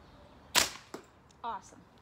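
An Xcaliber dart projector fires a dart with a single sharp pop, followed by fainter clicks and a short squeak in a quiet setting.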